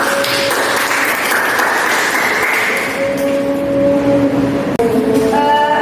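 Classroom applause: a group of students claps steadily and loudly for several seconds, close by, with a brief sharp knock near the end.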